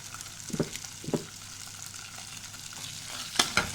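Squid frying in a pan after tomato ketchup is stirred in: a steady close sizzle with a few scraping stirs and clacks of a spoon, and no talk.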